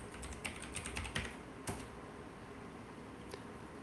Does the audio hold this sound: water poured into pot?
no